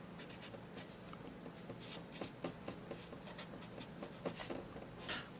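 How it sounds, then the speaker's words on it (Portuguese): Rapid scratchy strokes of writing on a board during a math lesson, with short bursts and taps in an irregular rhythm, fairly faint and with no talking. "vamos escrever aqui para a gente lembrar"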